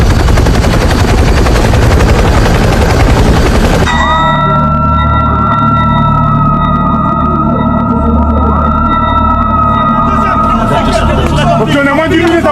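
Helicopter in a submarine warfare video game, a steady loud rotor drone with sustained tonal whine over low rumble, following a burst of dense noise in the opening seconds; no speech.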